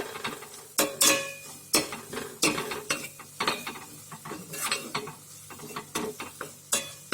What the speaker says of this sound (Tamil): அந்த எண்ணெயில கொஞ்சம் இந்த மசாலாவை புரட்டிக்கோங்க